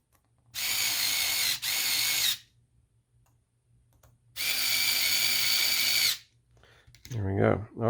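A power drill drives screws into a flatbed conversion kit: two loud, steady whirring runs of about two seconds each, separated by a quiet pause, with a thump and brief talk at the end.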